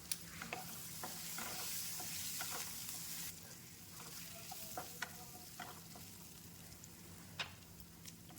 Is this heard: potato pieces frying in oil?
yes